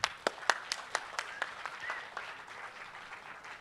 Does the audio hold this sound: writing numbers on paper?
no